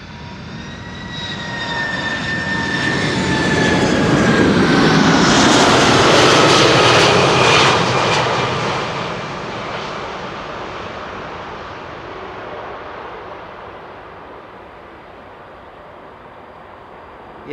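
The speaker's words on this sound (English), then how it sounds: "in the direction of the main platform area, you can probably hear the engines" A Cargolux cargo airliner arriving at Amsterdam Schiphol Airport from Miami, its jet engines swelling from a distant whine to a loud, roaring pass with a falling whistle, then fading slowly into a steady rumble.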